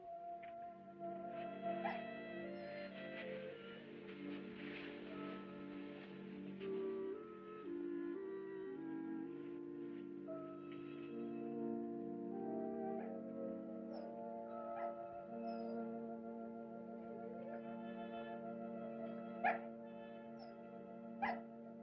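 A dog whimpers and whines faintly in a long, drawn-out plaintive stretch, with a few brief yips near the end, set against soft, continuous background music.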